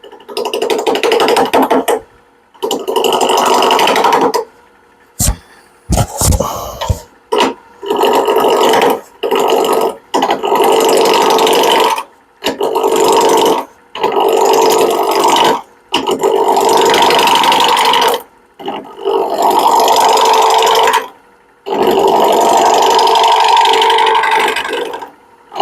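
Wood turning on a lathe throws shavings as a tool cuts a rough blank round, loud scraping and rattling bursts in repeated passes separated by short pauses, close and harsh.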